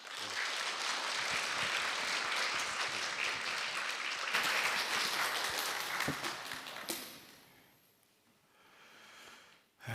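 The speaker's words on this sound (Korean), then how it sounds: "주제로 귀한 설교를 해주실 남현수 목사님 나오실 때 큰 박수로 환영해 주시기 바랍니다." A church congregation at Sunday worship applauds to welcome the preacher, with full, sustained clapping for several seconds that tapers off into quiet.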